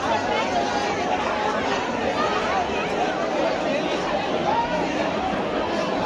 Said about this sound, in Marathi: या साईडला देखील भरपूर अशी गर्दी आहे